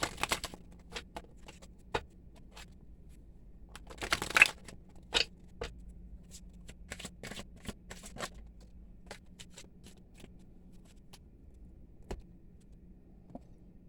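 Osho tarot cards being shuffled and drawn by hand: quiet, close, irregular soft slaps and flicks of card stock, with a denser burst of riffling in the middle, set against a faint low background hum and no talk.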